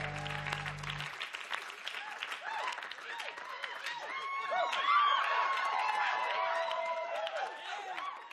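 A studio audience at a comedy talk show breaks into applause and crowd noise after an opening voice briefly speaks, and the clapping swells to a dense, sustained wash that continues throughout.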